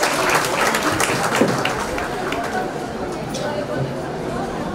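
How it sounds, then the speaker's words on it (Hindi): A crowd claps and applauds steadily, dense and sustained, with some chatter mixed in beneath, at a school classroom launch event in Mumbai. "एक बार जोरदार तालियां हो जाए उनके लिए"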